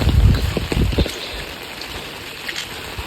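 Rain falls in misty tea-covered hills, a steady hiss of drops with a few louder close splashes and patters at the start before settling into an even, soft wash.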